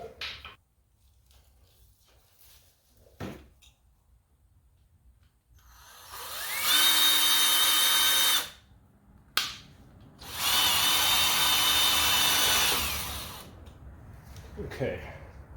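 A power drill whines through two bursts of about two seconds each, close and loud, during work on the drive pulley and swing arm of a 1997 Road King motorcycle, with quiet handling sounds before and after.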